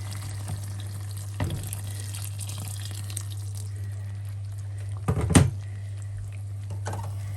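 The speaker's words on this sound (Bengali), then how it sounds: "এখন আমি দিয়ে দেব এখানে গরম পানি" Hot water poured into a pot where a fish curry base with kochur loti and hilsa has been reduced dry, giving a faint steady rush over a low hum, with a brief louder splash and hiss near the end.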